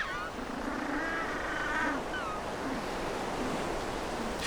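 Braying calls of African penguins at an urban breeding colony, a few honking phrases rising over steady surf and wind noise, moderately close, with no voices.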